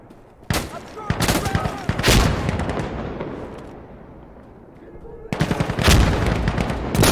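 SVD sniper rifle fire in the video game Insurgency Sandstorm, several sharp loud cracks with echoing tails, spaced irregularly amid other distant gunfire and battlefield rumble.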